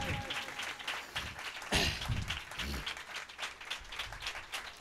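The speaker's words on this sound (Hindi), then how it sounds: "जोरदार तालियां उस प्यार के लिए।" A church congregation applauds during a pastor appreciation service, with loud, dense clapping that swells briefly near the middle, mixed with voices.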